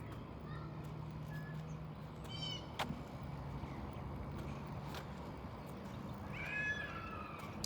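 A cat meows a couple of times, faint and somewhat distant, over a steady low outdoor rumble with no clear speech.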